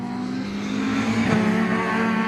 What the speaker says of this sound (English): that car just turning its way now out of the Rocket Complex and up towards the right-hander here at Peel